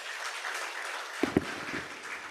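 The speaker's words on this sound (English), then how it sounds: "Please give her another round of applause." An audience at a new members induction ceremony claps in a steady, moderately quiet round, with a couple of sharper, closer claps standing out near the middle.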